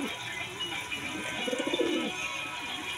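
Racing pigeons coo close by, a soft, rolling burst of cooing in the middle of a quiet background.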